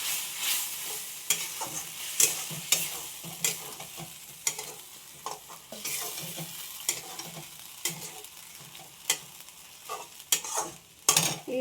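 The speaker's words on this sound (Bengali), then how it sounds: "এবারে মশলা ধোয়া জল দিয়ে একটু ভালো করে নাড়াচাড়া করবো।" Spices and spice-rinse water stirred in a frying pan with a little oil, a spatula scraping in steady irregular strokes over a soft continuous sizzle, close and fairly loud with no voices.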